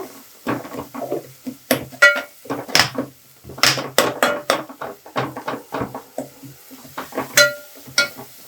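A spatula stirs salt and chili spices in a pan on a low flame for brinjal curry, giving repeated sharp scrapes and clinks in an uneven rhythm over a faint sizzle.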